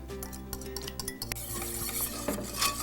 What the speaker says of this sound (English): Now is the time to whisk in these egg yolks.